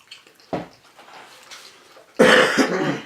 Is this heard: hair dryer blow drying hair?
no